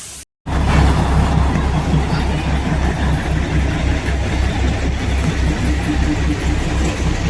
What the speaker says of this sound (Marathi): आपल्याला ट्रेन पण दिसते